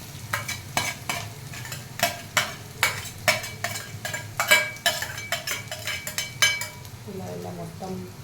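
Grated beetroot frying in a pan over a high flame, stirred with a utensil in quick, repeated strokes that scrape and clink against the pan, with a steady sizzle underneath, close and fairly loud.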